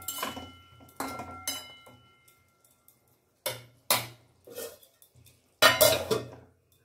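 A metal lid lifted off a cooking pot and a spoon scraping and stirring curry inside, heard as a few sharp clinks and clatters separated by quiet pauses, close and fairly loud.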